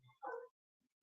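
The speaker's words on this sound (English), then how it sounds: "maybe you hear one of my dogs barking behind me here" A single dog barks once behind an indoor speaker's setting, a short burst at moderate distance, preceded by a faint low sound and followed by quiet.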